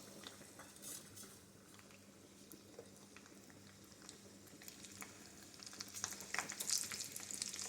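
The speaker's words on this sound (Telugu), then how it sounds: "ఇప్పుడు ఎల్లిపాయలు వేసుకోవాలి." Garlic frying in tempering oil for korivi pachadi gives a continuous soft sizzle with occasional spatula clinks, and the crackle grows louder and busier toward the end.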